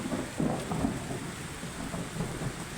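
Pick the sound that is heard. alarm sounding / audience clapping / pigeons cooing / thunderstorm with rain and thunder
thunderstorm with rain and thunder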